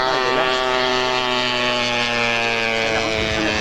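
A North American T6 trainer aircraft passes at an air meeting with its landing gear retracting, a steady, loud propeller-engine drone with a strong harmonic tone that holds throughout, shifting slightly in pitch toward the end.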